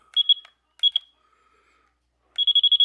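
Short electronic beeps from a continuity tester checking an incandescent Christmas light strand: a double beep, another double beep, then a quick rapid run of beeps after a pause. Clear and close, no talking.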